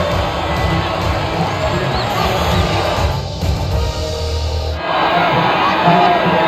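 A large crowd cheers and roars continuously at a Formula 1 podium ceremony after the Canadian Grand Prix in the F1 25 game, a dense, steady wash of distant voices and whoops that dips briefly before swelling again.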